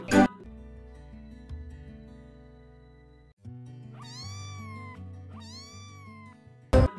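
Two clear, drawn-out cat meows in a row over a soft, steady musical backing, with short sharp hits at the start and end.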